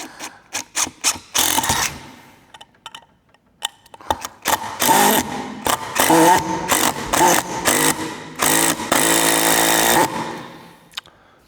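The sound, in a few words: DEWALT entry level drill driving 100 mm 10G screws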